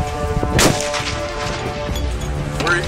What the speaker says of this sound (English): The 338 Lapua was my most recent purchase. This is the first chance that I got to shoot it.